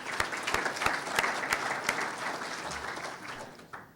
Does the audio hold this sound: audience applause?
yes